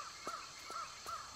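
Three harsh parrot squawks in the Tomb Raider level Fading Light at Port Royal Beach, evenly spaced about a third of a second apart over a quiet ambient background.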